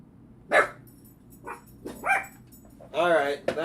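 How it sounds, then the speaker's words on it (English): Dogs bark close by indoors, several separate sharp barks and yips spread across a few seconds, ending in a longer, wavering bark. "barking is not being good"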